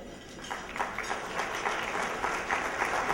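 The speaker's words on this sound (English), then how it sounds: "A round of applause for all of you." An awards gala audience claps in a sustained round of applause, moderately loud and rippling evenly for a few seconds with faint room murmur beneath.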